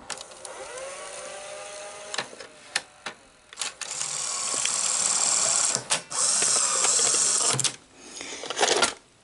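A PAL Betamax VCR that has been eating tapes whirs and hums as it rewinds a cassette, with steady high mechanical drive noise interrupted by clicks and brief pauses, loud and close.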